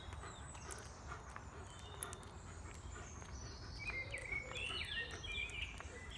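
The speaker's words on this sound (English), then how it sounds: "Okay, so there's a blackbird." A blackbird sings in woodland, its fluting, warbling phrases faint and distant over a low background rumble, growing a little clearer toward the end.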